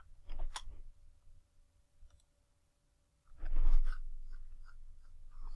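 Keys tapped on a computer keyboard while working in AutoCAD: a few light clicks early on, a pause, then a denser run of quick taps that carries on to the end.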